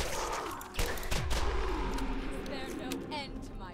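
Gunfire in the shooter Borderlands, a burst of sharp shots and booming impacts early on followed by lingering rumble and effects, with someone talking over part of it.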